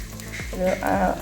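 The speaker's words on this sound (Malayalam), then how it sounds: "1 സ്പൂൺ വീതം വെളുത്തുള്ളിയും ഇഞ്ചിയും ചെറുതായിരുന്നത് നന്നായിട്ട് വഴറ്റാം." Finely chopped garlic and ginger frying in a pan: a soft, close sizzle with a few spatula strokes and clinks that rise briefly near the end. No one speaks.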